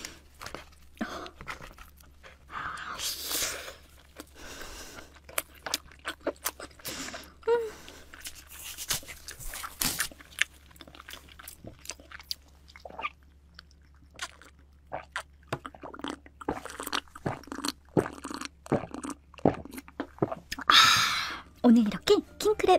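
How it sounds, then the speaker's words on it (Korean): Close, crunchy bites and chewing of a king crab, fishcake and seafood stew with abalone, steady wet mouth sounds with short crackly bursts, no talking. "오늘 이렇게 킹크랩 어묵 해물찜을 먹어봤는데요."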